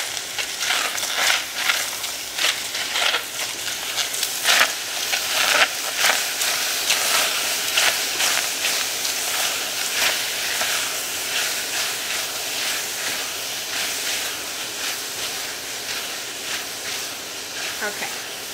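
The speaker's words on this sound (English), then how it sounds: "So while you're cooking your strawberries, you wanna go ahead and stir them every few minutes." Strawberries cooking in a pan over medium heat while being stirred, giving a steady close sizzle and hiss with scraping stir noises throughout.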